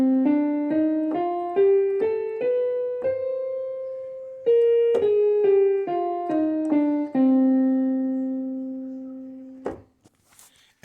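Solo saxophone playing a melodic minor scale, clear sustained notes stepping up, then back down with lowered tones, ending on a long held low note, loud and close with no talking.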